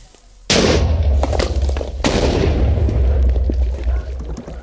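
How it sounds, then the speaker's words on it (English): A booming blocky explosion from a TNT cannon hits suddenly, followed by a second blast and a crackling rumble of debris, as in a video game. "Here's a demonstration of a pretty weak TNT cannon."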